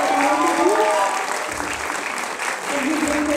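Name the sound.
theatre audience applause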